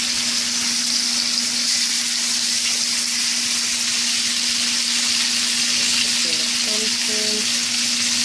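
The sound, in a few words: yam and sardine frying in oil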